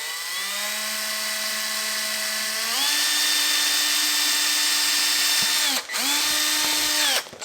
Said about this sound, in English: Let's go ahead and drill this bad boy out.